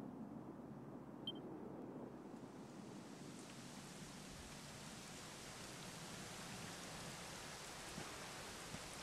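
Soft, even rain falls continuously in Dragon Quest XI, a faint steady hiss with no voices, swelling slightly after the first couple of seconds.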